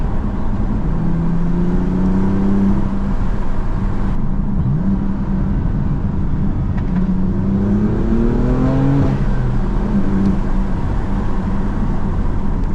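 A BMW M4 Competition fitted with an AWE SwitchPath exhaust roars loudly up close, its turbos whooshing and the revs sweeping up and down through gearchanges with a downshift blip, a constant heavy engine drone throughout.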